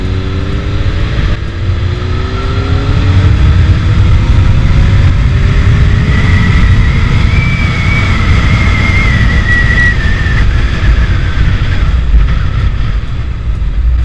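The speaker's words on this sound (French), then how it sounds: "on sent que là, ah, le moteur il se réveille un peu, ça veut repartir." A Honda Hornet 600 (CB600) motorcycle engine revving toward 7,000–8,000 rpm while riding, a loud continuous drone whose pitch climbs and wavers under heavy wind buffeting.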